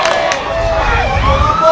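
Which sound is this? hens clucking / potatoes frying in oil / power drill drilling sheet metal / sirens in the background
sirens in the background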